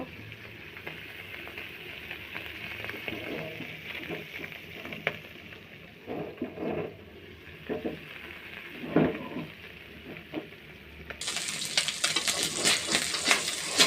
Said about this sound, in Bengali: তো সব মাছে তেল পাওয়ার জন্য আমি এরকম ঘুরাই দেব।